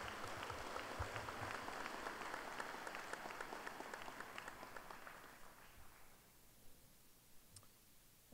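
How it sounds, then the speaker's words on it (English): Applause from a high school graduation crowd for the student speakers, dense and continuous at first, then thinning out into scattered claps as it fades. "How about a round of applause for both of our student speakers this evening?"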